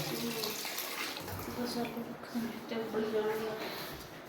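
Tap water runs and splashes steadily in a sink while mixed vegetables and potatoes are washed, with a person talking over the running water.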